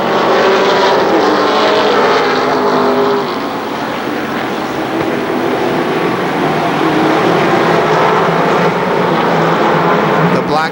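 ARCA stock cars racing at KilKare Speedway in 1995, a loud continuous engine roar from a pack of cars that holds steady throughout with a commentator's voice over it.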